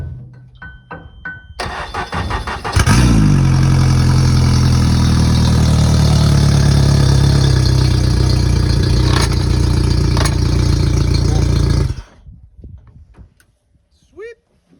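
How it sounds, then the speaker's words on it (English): A boat motor at Bristol Bay cranks for its first start of the year, catches and roars into a loud, steady run for about nine seconds before cutting off, with people talking before and after. "Motor, I bet you it fired right up"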